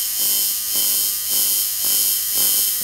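An electric tattoo machine buzzes steadily and close up, its drone pulsing in rhythmic waves roughly every half second with no voices over it.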